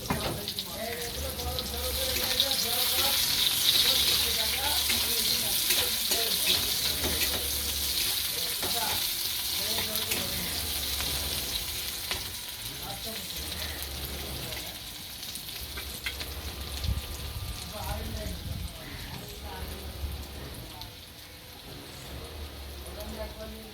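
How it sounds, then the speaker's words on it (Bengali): Onions frying in a pan for a rui fish curry with yogurt and poppy seed, a continuous close sizzle with scattered clinks and stirring noises throughout. "পেঁয়াজ ভাজা হয়ে এসছে।"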